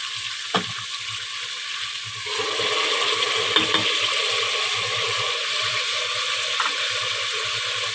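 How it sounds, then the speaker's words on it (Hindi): Garlic, ginger and onion paste goes into beef frying in a pot for aloo gosht. A steady sizzle swells louder after a clack partway through, with light scraping and stirring clicks over it. "गोश्त को मैं अच्छे से फ्राई कर लिए है। इसमें अब मैं लहसुन अदरक और प्याज का पेस्ट डालूंगी।"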